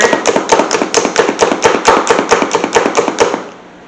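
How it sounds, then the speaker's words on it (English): A knife mincing garlic on a cutting board makes fast, even, loud chopping taps, about five per second, close up and with no talking, then stops. "I gotta mince the garlic here"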